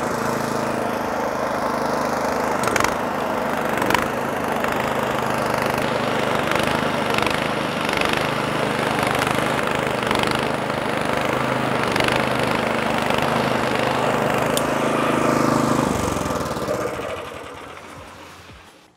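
WolfGarten VA 389 B lawn scarifier running steadily on a garden lawn, a loud continuous engine drone with rattling tines, close by, winding down at the end.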